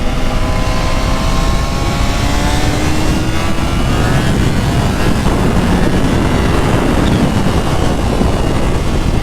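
Ride on a Kawasaki Ninja H2 Carbon Edition motorcycle, its 231 hp engine droning and rising in pitch under heavy, constant wind roar across the microphone, loud and continuous without speech.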